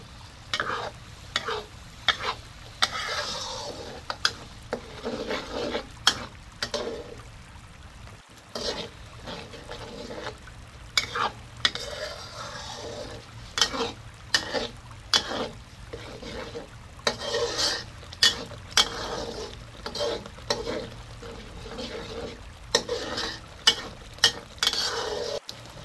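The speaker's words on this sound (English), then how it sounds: "Stir thoroughly." Fragrant chilli sauce is stirred in a frying pan, a close scraping swish repeated in uneven bursts over a soft sizzle, the spoon strokes loud and rhythmic with brief pauses between them.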